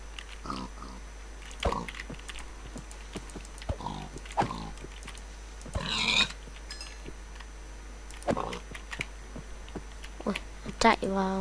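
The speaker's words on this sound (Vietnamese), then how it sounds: "Đi giết thêm con heo nữa." A pig oinks in Minecraft several times, in short grunts spread through the clip, with a voice speaking on and off between them and a few footstep-like clicks.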